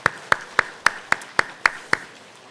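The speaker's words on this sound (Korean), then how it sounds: "저 아이들을 위해서 우리 하나님께 영광의 박수 한번 올려드리겠습니다" In a church, a congregation applauds a children's choir with seven sharp, evenly spaced claps in a steady rhythm, crisp and close with a faint room echo.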